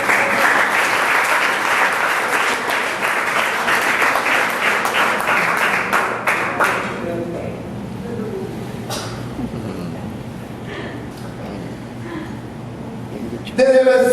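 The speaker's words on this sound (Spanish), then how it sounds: "Dile un aplauso al Señor si usted lo cree." A Pentecostal evangelical church congregation applauds during a sermon: dense, loud clapping for about seven seconds, then it fades into quieter room sounds with scattered voices.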